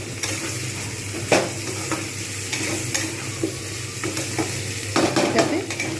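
Potatoes frying with onions in a pan for a prawn and green jackfruit dish, a steady close sizzle broken by several scraping stirs of a spatula against the pan.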